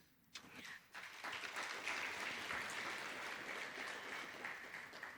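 An audience at a university graduation ceremony applauds, a steady wash of many hands clapping that swells after a brief pause and continues evenly, heard from a distance.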